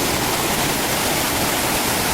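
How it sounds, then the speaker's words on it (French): A waterfall pours into the pool at Bassin Paradis in Capesterre. It makes a steady, loud, dense rushing roar that runs unbroken throughout, with no voices. "l'on entend déjà d'ici la chute qui doit remplir le bassin en bas"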